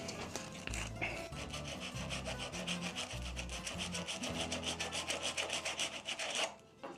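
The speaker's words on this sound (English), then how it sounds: "I'm going to just put a little bit of sandpaper in the middle of this and just try to remove any dirt or grime that may be in there." Sandpaper rubs back and forth inside the eye of an old axe head, giving a steady rasping scrape that runs almost continuously and close up, then stops near the end.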